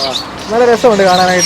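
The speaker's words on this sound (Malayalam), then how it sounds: "ഇതിനകത്തെല്ലാം വെറൈറ്റികളായിട്ടുള്ള ഫിഞ്ചസ് ആണ്" Finches of several varieties chirp in a bird shop, a close burst of rapid, bright twittering calls, while a person talks over them.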